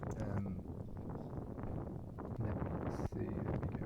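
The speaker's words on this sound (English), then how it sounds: "Oh, very windy." Wind blows across a golf course, buffeting the microphone in loud, gusty rumbles that swell and ease, with a brief dip near the end.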